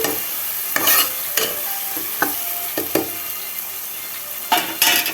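Tripe (boti) frying in oil with turmeric, a loud close sizzle punctuated by several sharp stirring scrapes and clanks of a utensil against the pan, without talk.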